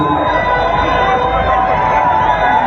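Dense, loud crowd noise from a mass gathering in Kolwezi welcoming Moïse Katumbi, a continuous roar of many voices and cheers with chanting, close and unbroken throughout.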